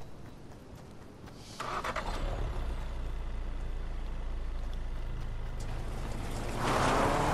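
A vehicle in the Fortnite video game passes underneath the player, a steady engine rumble that swells in suddenly, holds loud and even, then grows a little stronger near the end.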